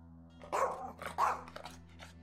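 A dog gives two sharp, close barks about half a second apart, with a softer yip after them. The barks stand out against a quiet background hum.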